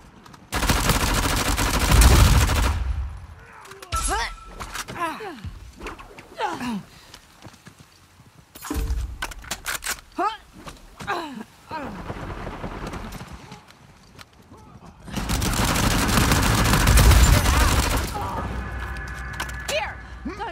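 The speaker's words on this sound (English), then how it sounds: "Should probably just follow the gunfire." Gunfire and machine-gun bursts in the video game Uncharted 4: A Thief's End: two long loud bursts of rapid fire at the start and end, with scattered shots, clatter and talking in between.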